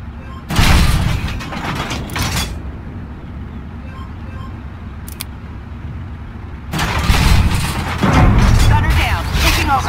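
Artillery fire in the tank game Armored Warfare: loud booming blasts early, then a longer stretch of heavy rumbling explosions after a quieter gap with a brief sharp crack.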